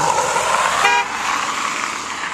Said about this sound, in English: I just uh, don't know why that car was honking at me